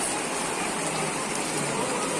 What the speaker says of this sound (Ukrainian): Он як ливануло.